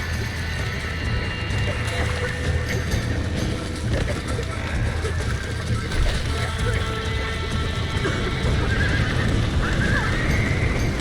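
Horses neigh and whinny in the video game Red Dead Redemption over steady clip-clopping hooves and a dense, busy background, with occasional voices mixed in.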